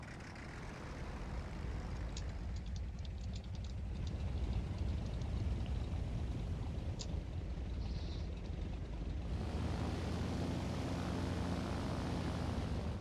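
A French D373 fighter plane's engine running in War Thunder, a steady low propeller drone throughout, rising to a fuller, brighter roar in the final seconds, with faint clicks over it and no talk.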